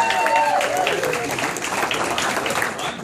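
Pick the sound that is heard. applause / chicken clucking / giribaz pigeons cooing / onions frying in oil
applause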